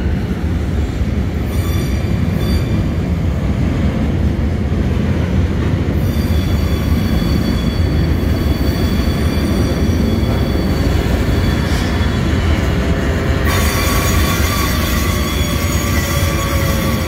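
A long freight train rolls past steadily and loudly through a rail yard at the Port of Santos, Brazil, wheels rumbling and clacking, with high metallic squeals rising and fading along the way.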